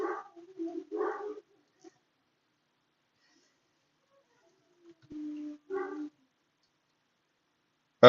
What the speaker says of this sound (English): Chaos is starting to howl.